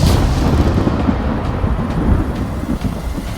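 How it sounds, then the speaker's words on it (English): A lightning bolt strike effect: a dense, loud, steady roar of crackling, rumbling noise that carries on throughout, with no voices. "Silver lightning, crackling with annihilating power, erupted from his palm"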